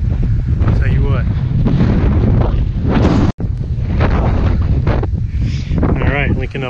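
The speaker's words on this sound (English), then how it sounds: "Wind is chilly." Chilly wind on a mountain trail at Twin Rocks Mountain in the Wichita Mountains buffets the microphone in loud, continuous rumbling gusts, with a person talking under the roar and one brief dropout midway.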